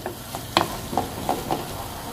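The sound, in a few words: stirring and frying batbout filling with parsley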